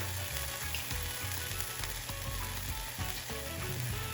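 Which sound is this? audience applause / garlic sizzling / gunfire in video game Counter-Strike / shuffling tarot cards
garlic sizzling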